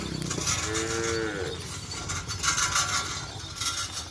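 Racing bulls from a Madurese kerapan sapi bull race team low and moo over a steady bed of outdoor background noise, with a clear lowing call early and further rumbling animal sounds throughout.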